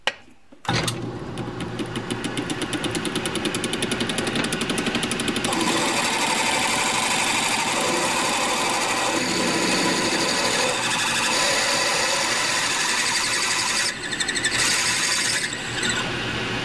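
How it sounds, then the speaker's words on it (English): A metal lathe cuts a counterbore into a case-hardened tailstock part, making a loud, continuous, harsh squealing whine with a motor hum underneath. The sound starts abruptly and runs steadily, dipping briefly near the end. "make a counter bore, maybe 3/16 of an inch deep to try to cut through that case hardening"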